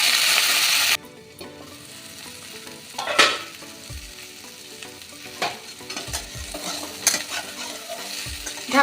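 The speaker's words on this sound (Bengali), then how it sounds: "এবার দিয়ে দেব এই এঁচোড়টা। আমি এবার ভালো করে ভেজে নেব।" Young jackfruit pieces hiss and sizzle in hot oil for a veg curry. After a loud opening burst, the frying settles to a quieter bubbling, with scattered scrapes and clanks of a spoon stirring the pan.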